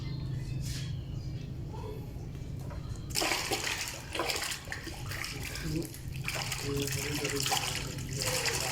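A hooked milkfish thrashes at the surface during a fishing outing, making bursts of splashing water that swell and fade in uneven rushes over a low steady background.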